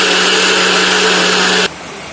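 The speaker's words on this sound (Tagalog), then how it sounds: "I-blender na natin siya." A blender runs loud and steady with a high whirring motor hum, then cuts off abruptly near the end, leaving quiet.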